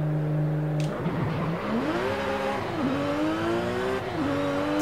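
A Subaru SVX engine in Forza Horizon 5 revs up through rising pitch sweeps, shifting gears several times with brief dips between climbs, loud and close with no talking.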